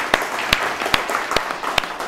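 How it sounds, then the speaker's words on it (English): At a tech meetup, people applaud the organizers. Sharp, prominent claps land about every 0.4 seconds over a softer, continuous patter of scattered hands in the room. "let's give a round of applause to our organizers here"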